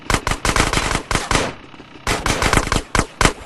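Rapid bursts of automatic gunfire in GTA San Andreas on PC, loud and close, fired in dense volleys with a short lull in the middle before the shooting resumes.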